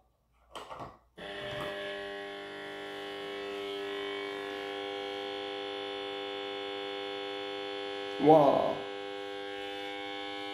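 A Union Auer Unalux 681 125W mercury vapour lamp starts up with a steady electrical hum rich in layered tones, sustained close and loud after a click. A voice exclaims briefly at the start and again near the end.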